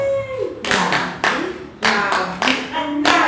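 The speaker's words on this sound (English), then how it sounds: "Clap for us." A group of people clapping their hands together in a classroom storytelling lesson, several loud bursts of applause with short pauses between them, close and lively, alongside a child singing.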